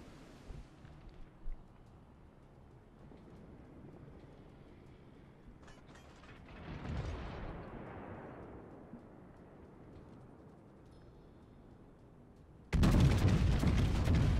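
In World of Warships, the Bismarck's battleship guns fire, with a muffled boom and rumble mid-way and a sudden loud, full blast of heavy gunfire at the end, over quiet mechanical game ambience.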